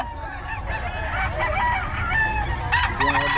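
Roosters crow and chickens cluck at a busy chicken market in Bocaue, with overlapping calls close by and a dense, lively background of poultry noise.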